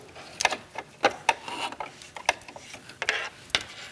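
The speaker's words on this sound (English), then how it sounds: "I'm loving this walking foot. It's doing my job for me. Do a little back stitch." A sewing machine fitted with a walking foot stitches a swing dress, giving short mechanical clacks and whirring bursts close up, including a brief back stitch.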